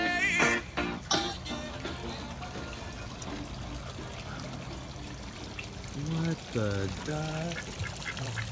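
Ducks quack in short bursts near the water, with splashing and trickling sounds around them and voices murmuring in the background.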